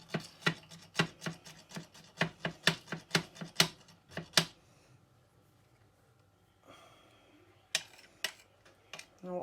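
A knife chops fresh garlic on a board in rapid, close, sharp strikes that come in a quick run, then pause, then return in a few scattered cuts.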